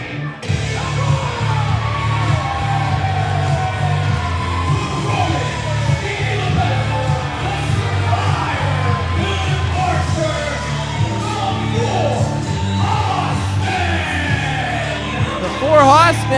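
Wrestling arena crowd roaring with sustained cheers and yells, a dense, loud wall of voices throughout with a few sharper whoops near the end.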